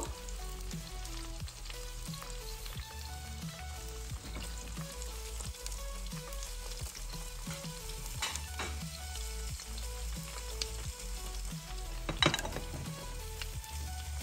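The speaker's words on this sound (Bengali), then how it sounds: "এটা হয়ে গেছে ভাজা, দেখো" Close, continuous crackling sizzle of an egg frying in a pan, with scattered pops and a louder scrape near the end; no one talks.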